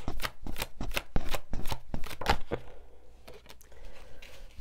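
Tarot cards are shuffled in quick, crisp riffling bursts, then several cards are drawn and slid out with softer flicks, all close and clear with no talking.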